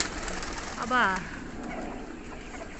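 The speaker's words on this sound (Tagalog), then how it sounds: "kalapati." Pigeons coo softly in a breeder loft against a steady background hum. One clearer warbling coo stands out near the start, and a person speaks briefly.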